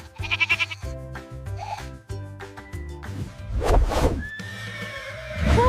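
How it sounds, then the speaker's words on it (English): A goat gives a couple of wavering bleats late in the passage, heard clearly over steady background music. "This is a goat."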